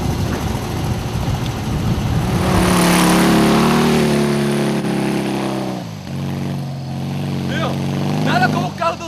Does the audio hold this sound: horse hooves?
no